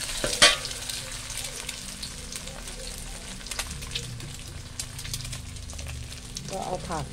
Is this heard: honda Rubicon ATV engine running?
no